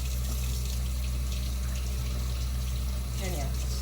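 Ginger root rinsed under running water for a homemade ginger beer recipe, a steady, loud gush and splash with a low hum beneath it, continuing throughout with a brief change near the end.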